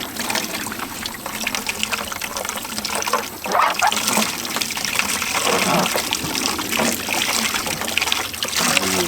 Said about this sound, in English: we've got a bucket underneath it, so we're putting all this water into a bucket